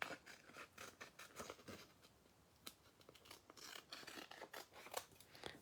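Scissors snip through paper for a Stampin' Up! papercraft project, a quiet, close series of crisp irregular cuts with short rustles between them, no voices.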